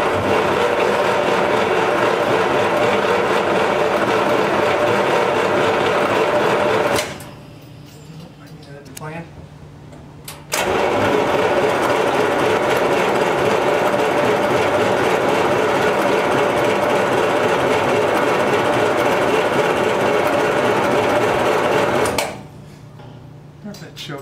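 A 1939 Buick engine roars loudly and steadily, cuts out, then fires up again after a few seconds and runs hard before dropping away once more near the end.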